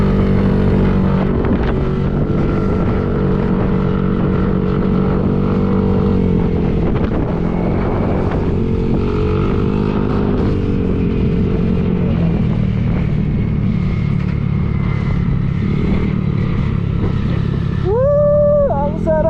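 Motorcycle ride toward Mount Pulag National Park, with a steady engine drone under heavy wind buffeting for a long stretch, loud and close, ending with a short high whine.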